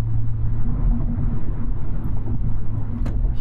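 Car engine with manual transmission rumbling steadily while rev-matching on a downshift for a highway off-ramp, a loud low drone heard from inside the cabin with no clear blip standing out.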